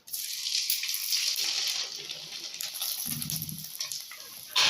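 Rice vadam (kanji vathal) frying in hot oil gives a steady bright sizzle with fizzing crackle throughout, close and continuous, with a brief lower bubbling burst in the middle.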